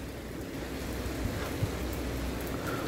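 Heavy rain falls at night at Ruifang railway station, a dense, steady wash of noise that fills the space without letting up and has no voices over it.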